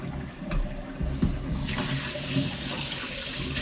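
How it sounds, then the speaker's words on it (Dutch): Tap water gushes from a faucet, opening with a couple of knocks before settling into a loud, continuous close-up rush. "Ja, ik moet eerst het water eruit laten."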